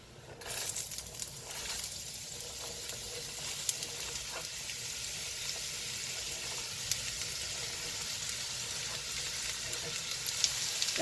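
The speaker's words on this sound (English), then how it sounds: "I'm going to put the onions and celery in together." Chopped onions and celery sizzling in a 6-quart dutch oven on a stovetop, a steady, even hiss of frying with occasional faint pops and stirring, fairly quiet and without talk.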